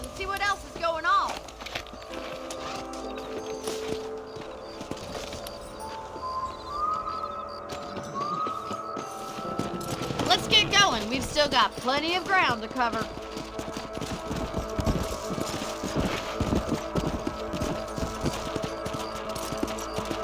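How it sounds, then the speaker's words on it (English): Horses' hooves clip-clop along a trail in the Western video game Red Dead Redemption, a steady rhythmic trot heard under spoken dialogue and ambient game music. "Let's get back on the horses and see what else is going on."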